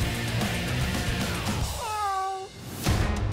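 A cat gives a single clear, drawn-out meow over a busy background of music and noise.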